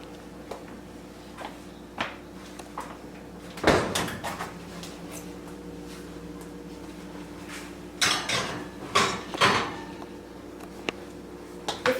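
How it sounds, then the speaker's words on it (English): A muffin tray is slid into a preheated kitchen oven with metallic clanks and an oven door thudding, a few sharp knocks and rattles scattered across a quiet room. "Now we're going to put them in the oven."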